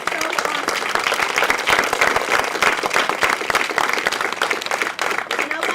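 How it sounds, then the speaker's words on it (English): An audience at a play-related event applauds volunteers, steady dense clapping from a crowd that carries on evenly for several seconds. "if we could just give them a round of applause before the end"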